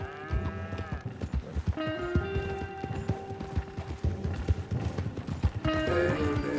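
Horse hooves clip-clop in Red Dead Redemption 2, a steady close trot of quick hoof knocks running the whole time under held musical tones.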